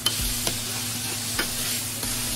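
A pizza burger patty flipped on a sizzling griddle, with a steady close fry and several sharp spatula scrapes and taps, no talking.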